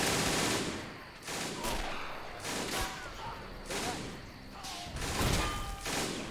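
Rapid bursts of machine-gun and rifle fire in a Men of War: Assault Squad 2 battle, with heavy shots crashing in repeatedly over several seconds in a dense, continuous barrage with thuds between.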